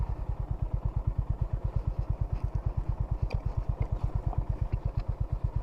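A motorcycle engine idles close by with a steady, fast thumping pulse while the bike is loaded onto a boat, continuous and fairly loud with faint clatter above it and no talk.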